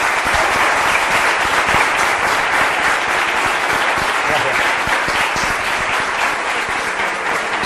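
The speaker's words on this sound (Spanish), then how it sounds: "Un aplauso." Dense, sustained audience applause after a popular science talk, many hands clapping steadily and loudly for several seconds without letting up.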